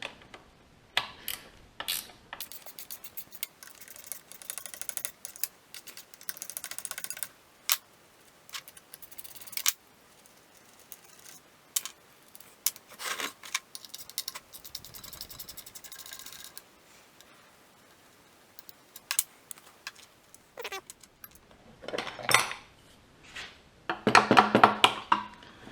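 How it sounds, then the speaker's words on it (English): Wrench work unbolting a part from a full fuel tank during repair of a failed engine, with scattered close ratcheting clicks, clanks and metallic taps in irregular bursts and quiet pauses between. "So I'm going to go ahead and let's unbolt this."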